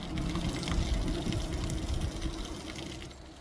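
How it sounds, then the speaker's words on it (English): Water pouring steadily from a piped spring beneath a small stone or cinder-block structure along the Appalachian Trail in North Carolina, a constant close gushing flow with no voices. "Decent amount of water coming out of nowhere."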